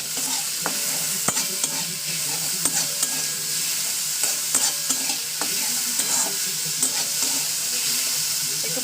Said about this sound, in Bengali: ভালো করে তেলে ফ্রাই করে নিতে হবে